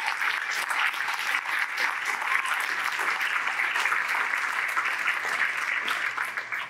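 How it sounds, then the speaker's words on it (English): Steady applause from a conference crowd at NEJS Conf 2019 for the speakers, sustained clapping at an even level throughout, fairly close and continuous. "another round of applause for the speakers"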